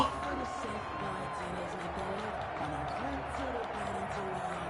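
Stadium crowd noise in a PS4 American football video game, a steady dense roar of a home crowd under a commentator's voice.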